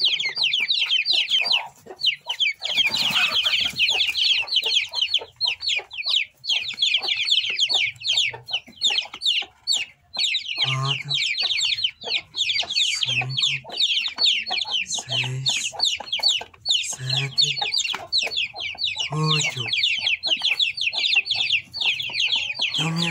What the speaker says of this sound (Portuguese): 8 pintinhos.